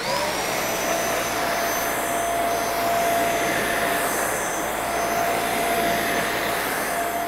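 A handheld UVC mattress vacuum cleaner runs continuously nearby, a loud steady whine and airy roar with a faint high tone, without talk.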